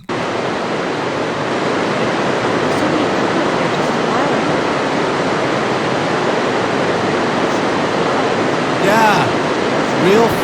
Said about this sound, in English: As I'm sure you were able to hear, the water's fucking everywhere.